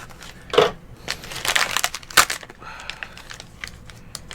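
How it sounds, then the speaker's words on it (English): Paper tears and crinkles as a Loot Crate unboxing gets underway, with a few quick, sharp rips and rustles close by and no talking. "Oop, I ripped some paper."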